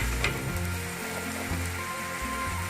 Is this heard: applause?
no